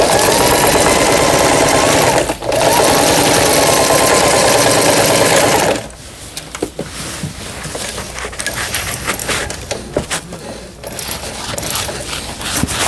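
A Toyota EC21 household sewing machine stitching at speed, a loud continuous mechanical whir with a brief stop, then settling into a quieter run with rattling and clicking as it switches between reverse and forward.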